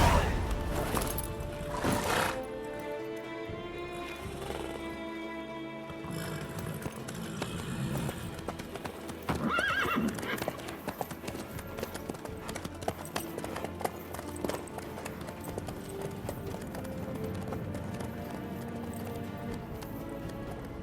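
A horse in The Witcher 3 trots and gallops with rapid clip-clop hoofbeats throughout, plus an occasional whinny, under game music and ambient sound.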